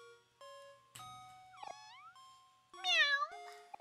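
In the video game OMORI, a cat meows several times in short, separate, tonal calls, with the last one longer and bending in pitch. The cries are clear but fairly soft, with no talk.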